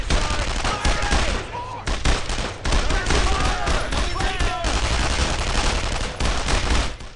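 Gunfire and heavy firing from a tank during a World War II battle in Brothers in Arms: Road to Hill 30, with dense, continuous crackling shots and booms and voices calling out throughout.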